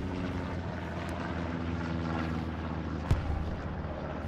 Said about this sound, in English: Recon plane incoming.